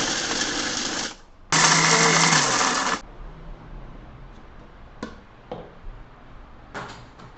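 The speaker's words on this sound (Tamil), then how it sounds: "அதை ஒன்று ஒன்றா மிக்சி ஜாரில் ஆட் பண்ணி லைட்டாக ட்ரில் பண்ணி எடுத்துக்கலாம்" A mixer grinder jar coarsely grinding dried herbs for a skin glow oil runs in two loud whirring bursts of about a second each, followed by faint rattles and knocks.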